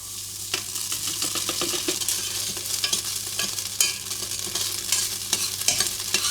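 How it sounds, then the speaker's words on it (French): Vegan lardons sizzle and crackle in vegetable cooking oil in a pot, a steady close frying hiss with stirring scrapes and small pops throughout, no voices. "Je vais y mettre un filet d'huile végétale, d'huile de cuisson, et j'y ajoute l'ingrédient fancy de cette recette."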